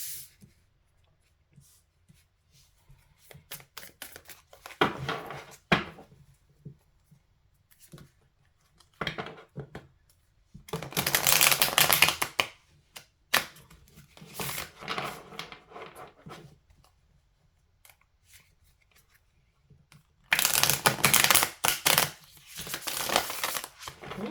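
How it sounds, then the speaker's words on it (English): Bursts of crisp riffling and flicking as tarot cards are shuffled with fingernails, alternating between quiet pauses and loud, rapid shuffles close to the microphone. "Some nice smooth shuffling. Especially with my nails."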